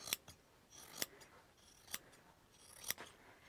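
Scissors cutting fabric along a traced line for a circular window treatment: four or five crisp snips spaced about a second apart, close and quiet, with no talking.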